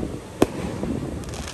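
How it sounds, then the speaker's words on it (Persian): A single sharp firework crack pops once, fairly close, then fades into a low, steady background hiss with faint crackling afterward; no talk is heard. "فایرورک فشفشه."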